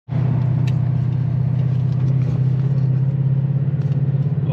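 A cold Ford Mustang engine idles roughly in the morning before a drive, a steady loud low rumble with a slightly uneven pulse that holds for several seconds, close by.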